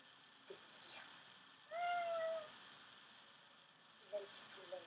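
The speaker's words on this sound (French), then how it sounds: "oh, mon chat il est arrivé" A cat lets out a short, thin meow partway through over quiet background noise, with a couple of faint higher squeaks and small rustles around it.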